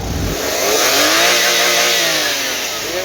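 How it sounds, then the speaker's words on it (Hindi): A Suzuki Alto's 660cc K6A engine, freshly fitted with silencer work, runs steadily and close up, with a loud rough drone and a slight swell in revs midway, no talking. "बाकी इंजन का साउंड मैं आपको सुना देता हूँ।"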